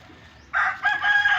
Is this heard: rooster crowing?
yes